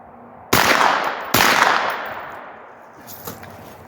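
Two loud rifle shots fired at long range of 300 to 500 yards, each a sharp crack followed by a long rolling echo, then a fainter third report, outdoors with no talk.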